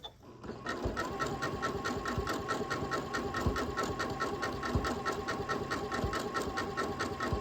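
A sewing machine stitches a blind hem using a blind hem foot, a close, steady rhythmic whirring hum with regular needle clatter that starts after a short pause and runs continuously without talking.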